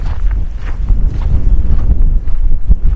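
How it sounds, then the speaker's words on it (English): Wind buffets the microphone on a hike in Joshua Tree National Park, loud, low gusty rumbles that swell and drop unevenly with no voices. "It's kind of windy, as you can probably hear."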